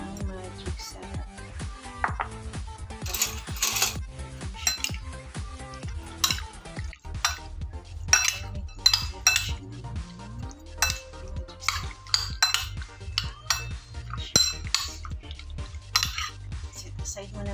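Calamari is tossed and stirred with Magic Sarap seasoning in a bowl, a run of rapid clinking and scraping strokes that comes in busy bursts while a voice talks over it.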